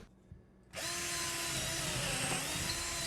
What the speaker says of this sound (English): Then I drilled smaller pilot holes through the shiplap into the studs.